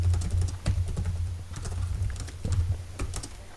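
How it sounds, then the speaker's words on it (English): Quick, uneven keystrokes tap on a computer keyboard over a low steady hum, with close, light clicks in short bursts and no voices. "Then you would type the date of publication."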